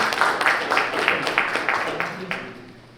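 Audience applause after a human rights and U.S. foreign policy panel, a burst of many hands clapping that fades steadily over three seconds, with no talk over it.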